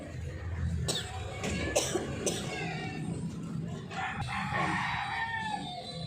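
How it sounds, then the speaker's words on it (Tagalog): Several sharp coughs from a person with flu ring out at intervals over background chatter, while a rooster crows and chickens cluck nearby. "May ubo kasi ako may trangkaso."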